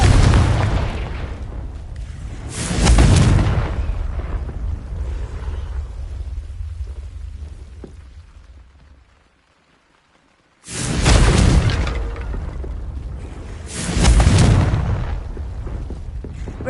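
A Confringo fire spell from the Hogwarts Legacy video game erupts in booming blasts, each a loud roar that swells and then decays into a rumbling tail. A sudden silence splits two separate bursts, and no voices are heard.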